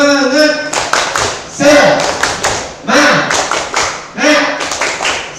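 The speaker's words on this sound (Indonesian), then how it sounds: "untuk menyemangati pagi hari ini kita tepuk semangat" A classroom group performs the 'tepuk semangat' morning clapping chant: bursts of rhythmic hand claps in patterned sets, mixed with voices calling out in unison, loud and close throughout.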